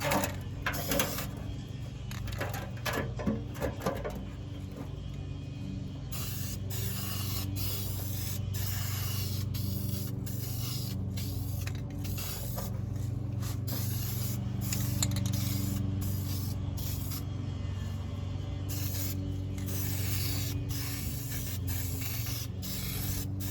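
Spray coating is applied in a thick layer to the rusted inner fender of a 1972 Chevrolet C10 truck, a steady close hiss that runs almost unbroken with brief pauses and no talking.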